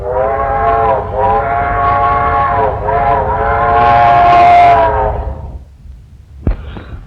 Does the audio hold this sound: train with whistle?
yes